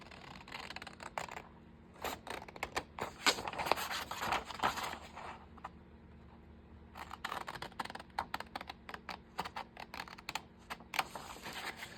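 Scissors cutting out paper pieces for a junk journal, a close series of crisp snips and paper rustles coming in bursts with short pauses between them and no talking.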